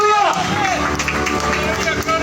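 A crowd at an outdoor street evangelism gathering in Papua claps in a rapid, steady rhythm beneath a loud voice talking and general crowd murmur.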